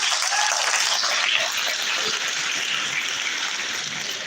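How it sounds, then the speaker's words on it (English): An audience at a Refugee Day gathering in Mulungushi claps in a dense, steady wash of applause that holds at an even level throughout, with no speech over it. "A round of applause for him,"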